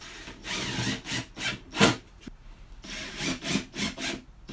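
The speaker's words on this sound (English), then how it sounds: "when you hear that rrr sound, that means that the screws made good contact" Screws being driven into a wooden DeskMate desk during assembly, giving a series of short rubbing, grinding bursts of turning and friction, close and fairly loud, repeating in an uneven rhythm with brief pauses between them.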